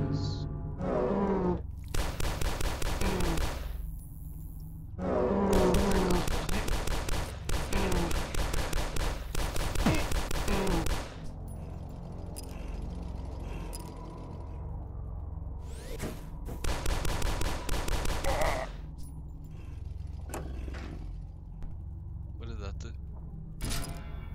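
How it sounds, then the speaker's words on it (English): Shotgun blasts in the retro first-person shooter Dusk come as a series of loud, broad bursts with brief gaps, mixed with game effects and a player's voice talking over the action. "Yo, now I have a shotgun."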